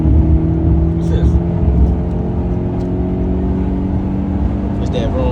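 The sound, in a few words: Genesis V8 car engine while driving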